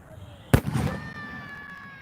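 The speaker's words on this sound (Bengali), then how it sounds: "আতশবাজির মধ্য দিয়েই কিন্তু সমাপ্ত হতে যাচ্ছে" Fireworks at Sylhet district stadium, closing a district celebration of Bangabandhu's birth centenary: one loud, sharp burst lands close by, followed by a scatter of crackling and a faint lingering whistle over crowd murmur.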